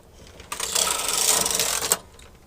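Knitting machine carriage pushed across one row of needles in a partial-knitting short-row pattern, a close, steady mechanical whirring and clatter lasting about a second and a half, rising and then ending with a small clack.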